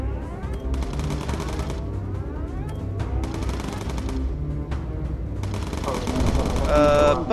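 Rapid machine gun crossfire from a WWII bomber's turrets in Bomber Crew, bursts of rattling fire layered over a steady droning engine roar, with a louder stretch toward the end.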